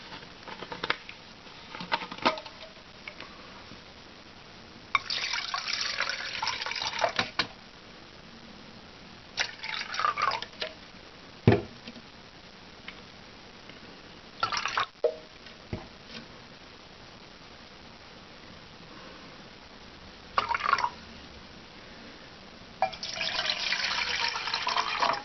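Water is poured and measured into pots for boiling on a portable dual-fuel camping stove, coming in several separate bursts of splashing and trickling with quiet pauses between them, close and moderately loud.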